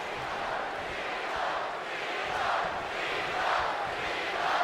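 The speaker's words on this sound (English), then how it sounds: "A very pro-Cena crowd here tonight in Florence." Wrestling arena crowd in the WWE 2K19 video game, a steady wash of cheering and roaring from a large audience in Florence, swelling in waves at moderate loudness with no clear voices standing out.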